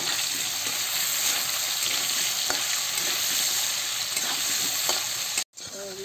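Potato pieces frying in oil in a pan for a jackfruit curry, giving a steady, dense, close sizzle throughout that cuts off abruptly near the end.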